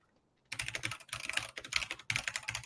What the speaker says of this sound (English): them noisy keyboards